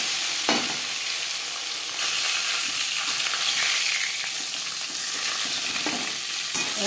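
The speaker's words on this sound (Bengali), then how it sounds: "সবার প্রথমে আমি মাছ ভেজে নেব আমি যা রিফাইন অয়েলে করছি" Bata fish frying in refined oil in a pan gives a loud, continuous sizzle with crackling spatters throughout, and no one talks over it.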